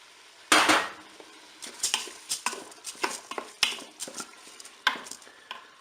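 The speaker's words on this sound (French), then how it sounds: "On va mettre le riz." Rice pours and rattles into a Cookeo pot with a loud initial rush, followed by a series of scattered clinks and scrapes of a utensil stirring grains against the metal bowl.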